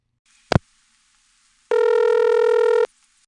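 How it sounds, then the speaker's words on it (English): A single loud ring tone on a GTE/Leich CXP-5 crosspoint telephone switch, a steady buzzing burst lasting about a second, preceded by a sharp click, with silence around it. "and it's ringing."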